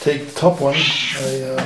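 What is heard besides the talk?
cat meowing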